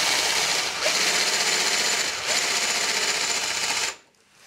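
A power drill bores a hole through metal during a Swardman Electra reel mower conversion, a steady loud whirring grind running for about four seconds with slight dips before stopping abruptly.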